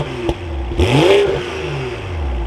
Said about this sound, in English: let's start this back up and take a listen to how this X4 sounds